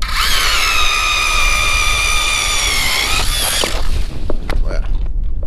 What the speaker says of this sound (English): Grab the old 24 volt. All right, let's get some holes drilled.